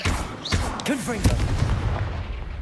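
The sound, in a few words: Confringo fire blast spell explosion in the video game Hogwarts Legacy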